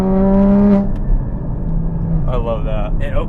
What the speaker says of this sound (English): It revs so nice.